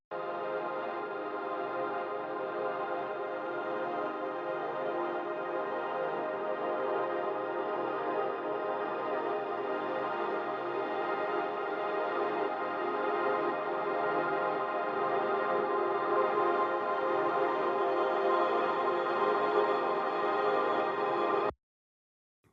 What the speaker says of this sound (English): it's a very bright, shimmery, clean reverb